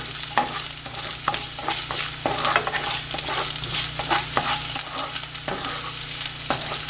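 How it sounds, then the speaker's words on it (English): Chopped ginger and garlic frying in a pan, a steady bright sizzle broken by repeated scraping clicks of a spoon stirring, close and alone. "first I'm going to add our chopped ginger and garlic"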